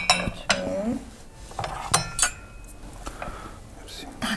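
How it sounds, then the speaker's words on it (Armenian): Small raclette pans being handed around a table, a series of sharp metallic clinks and clatters at irregular intervals, close by, with quiet voices murmuring between them. "Ահա, ես ձեզ տամ ձեր փոքրիկ թավաները։"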